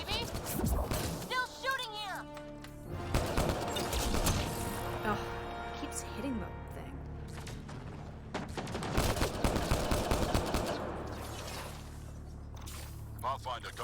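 Gunfire from a firefight in the video game Mass Effect Andromeda, bursts of shots and impacts running throughout amid music, with people talking over the action.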